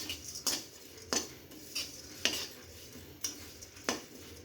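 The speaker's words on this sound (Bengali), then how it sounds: "এই চিরাগুলো আবার ভেজে নেব।" Flattened rice (chira) dry-roasted in a pan with a little oil and salt, stirred in sharp repeated scrapes and clinks of a utensil against the pan every half second or so, over a faint low sizzle.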